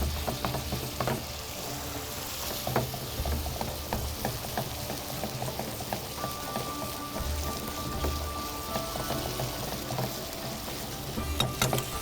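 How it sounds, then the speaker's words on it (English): Steady sizzling and stirring as yogurt and water mixture is worked into Kashmiri kofta gravy in a hot pan, a continuous bubbling crackle with scattered scraping clicks throughout. "We'll add just a ladle first and another one and start mixing all the red over here."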